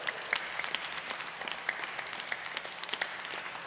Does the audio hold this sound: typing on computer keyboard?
no